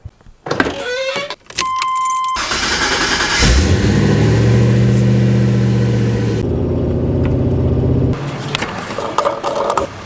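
A 36-year-old G-body car with doors and keys handled first, then the engine fires and revs loudly, holding a strong rising drone as it pulls away onto the road before easing off.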